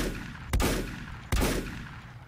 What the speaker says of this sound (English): this pistol does nothing to these modules